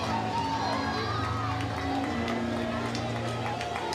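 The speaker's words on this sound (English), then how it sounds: "And now the crowd can really get into it." Crowd noise at a college softball game between Oklahoma State and Arizona State, a steady loud wash of cheering and shouting voices filling the stands throughout.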